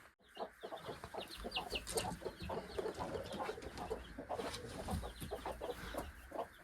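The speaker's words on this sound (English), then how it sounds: "We successfully hatched some baby chicks, naturally." A mother hen with newly hatched chicks on an off-grid Minnesota homestead clucks steadily, with faint high cheeps mixed in, close by and continuous.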